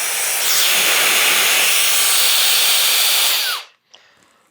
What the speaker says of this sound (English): suction on one end and the blower on the other